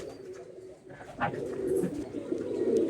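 A Madrasi pigeon held in a hand gives soft, low cooing close by, a short run of throaty coos with no talk over it.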